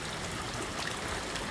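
Flood water flows toward a village house, a faint, steady rushing and trickling wash that holds even and continuous, with no voices.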